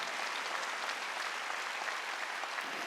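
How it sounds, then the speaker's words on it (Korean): Church congregation clapping during a Wednesday worship service, steady dense applause from many hands filling the room, with no talk over it. "빨리 박수 치라고"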